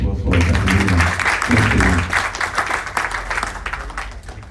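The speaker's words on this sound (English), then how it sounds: "One more time, please, a round of applause for Caterina." A crowd applauds a speaker at a fitness institute launch event in Accra, Ghana, loud dense clapping with some talk-like murmur at first, then thinning and fading toward the end.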